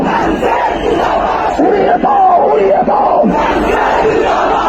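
A dense protest crowd chants slogans in unison on a Dhaka street, loud and close, with rhythmic rising and falling shouts filling the whole stretch.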